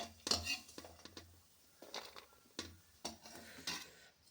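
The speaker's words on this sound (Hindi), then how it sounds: "नारियल को भून ली हूँ, इसको निकाल रही हूँ प्लेट में" Roasted coconut pieces scraped and moved from a kadhai onto a plate, a sequence of faint, separate metallic scrapes and clinks of a spoon against the pan, spaced irregularly in a quiet kitchen.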